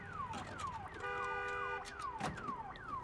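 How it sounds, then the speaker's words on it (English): A car alarm in the video game Days Gone wails without pause. Its repeated downward-sweeping electronic tones come in a fast steady cycle, fairly close and continuous, with no talking over it. "Can we turn this alarm off?"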